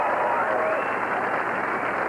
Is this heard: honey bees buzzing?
no